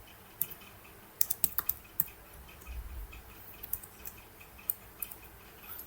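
Dart code is typed on a computer keyboard, a quiet run of irregular key clicks with small bursts and gaps in a still room.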